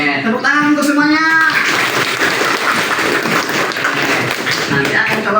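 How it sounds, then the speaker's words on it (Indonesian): A classroom of children claps together in a steady, dense burst that runs throughout, with a voice and some kids' talk audible over it at the start. "tepuk tangan untuk semuanya"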